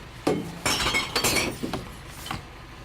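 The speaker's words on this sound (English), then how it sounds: "So the brown glass goes in there." Brown glass bottles dropped into a recycling container, giving several loud clinking, smashing impacts in quick succession, close by with no talk.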